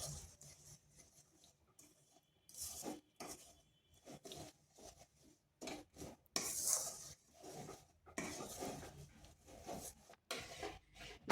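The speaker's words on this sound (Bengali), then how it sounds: "এইভাবে নাড়তে নাড়তে চিনিটা সম্পূর্ণ গলে যাবে।" A spoon scrapes and stirs a coconut and sugar mixture in a pan for coconut barfi sandesh, giving soft, irregular strokes with brief pauses, close by and fairly quiet.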